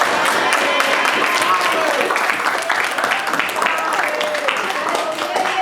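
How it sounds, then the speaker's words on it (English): An audience of young people gives a round of applause for a woman named Mada, a continuous loud patter of many hands filling the whole stretch. "Can everybody give Mada a round of applause"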